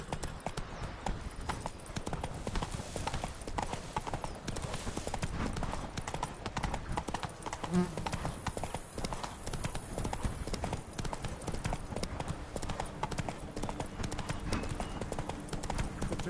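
Continuous horse hoofbeats at a steady trot or canter while riding in The Witcher 3, dense rhythmic clopping on a road with a constant ambient bed, no talk in the clip.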